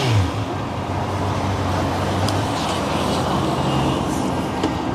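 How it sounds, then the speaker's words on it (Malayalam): Honda CB650R inline-four motorcycle riding on a road, a steady loud engine and exhaust drone with wind and road rumble throughout, no talking. "ദ ഇൻലൈൻ 4 engine ഈ വണ്ടി ഓടിക്കുമ്പോൾ കിട്ടുന്ന ഫീൽ ഉണ്ടല്ലോ, അത് ഒരു വേറെ ലെവൽ ഫീലാണ്. എക്സോസ്റ്റ് നോട്ടൊക്കെ കേൾക്കുമ്പോൾ തന്നെ കോരി തരിക്കും."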